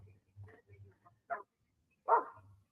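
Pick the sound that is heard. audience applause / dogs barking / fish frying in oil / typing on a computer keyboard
dogs barking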